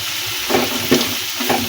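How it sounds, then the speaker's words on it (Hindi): Stuffed bitter gourd frying in hot oil with ginger garlic paste, a steady close sizzle with brief bursts of stirring over the crackle. "ये हम इसको थोड़ा फ्राई करेंगे अभी।"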